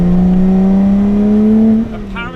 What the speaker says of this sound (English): Supercharged V6. The car is completely stock and it sounds incredible.